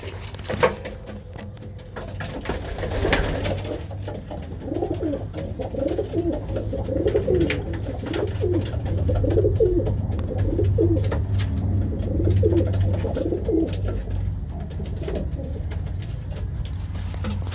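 Pigeons cooing around a nest bowl in a loft, repeated soft throaty coos in rhythmic bursts close by, over a low background hum with occasional distant traffic.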